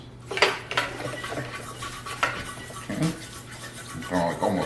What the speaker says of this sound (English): I'm going to like almost whisk this together here